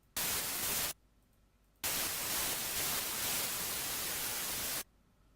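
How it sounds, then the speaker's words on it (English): White noise generated in FL Studio 12 plays in two loud, flat bursts of hiss, a short one near the start and a longer one of about three seconds, each switching on and off abruptly with near-silence between. "the white noise is already there"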